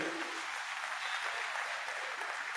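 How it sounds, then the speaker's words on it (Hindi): Crowd at a political rally clapping for a candidate, a continuous, fairly distant-sounding wash of applause with no clear speech on top. "जोरदार तालियां इनके लिए बजाइए।"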